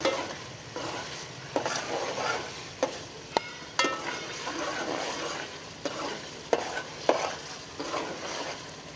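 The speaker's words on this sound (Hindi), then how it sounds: "थोड़ी देर के लिए भूनेंगे इसे।" Keema masala for a dhaba-style aloo keema is stirred and fried in a pan, with a steady sizzle broken by sharp scraping clicks of a spoon against the metal, close and fairly loud, with no talking.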